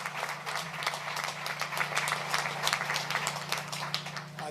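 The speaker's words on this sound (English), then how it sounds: "Let's give them another big round of applause." Crowd applause for Honda plant workers in Alliston, Ontario, with distinct individual claps scattered over a steady low hum, moderately loud and continuous throughout.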